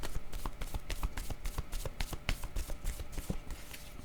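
Playing cards riffled and shuffled by hand, then one card drawn from the deck, giving a steady run of quick papery flutters and taps, close and moderately quiet, with no voices.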